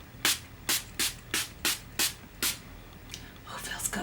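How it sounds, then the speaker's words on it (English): Several short hissing bursts from an e.l.f. Matte Magic Mist and Set setting spray, about seven evenly spaced pumps close to the mic, followed by softer breathy rustling. "And now the final thing we need for this look is a setting spray."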